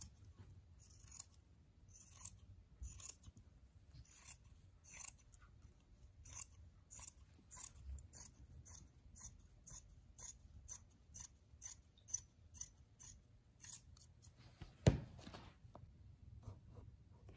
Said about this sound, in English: I'm going to use my scissors for this, and I am just going to cut the front only